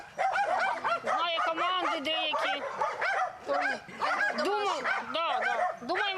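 Dogs rescued and evacuated from Vovchansk bark, yip and whine at an animal rescue, with rapid, overlapping high-pitched barks and whimpers close by, repeating in loud bursts throughout.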